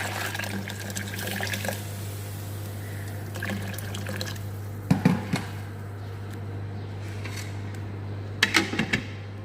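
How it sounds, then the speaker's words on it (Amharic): Water poured into a pot of rice while cooking Saudi-style chicken kabsa, a soft continuous trickle with a few brief splashy bursts, close by over a steady low hum, no talking. "ከዛ ውሃው ስለሚያንሰኝ ለሩዙ ውሃ ጨምርበታለሁ።"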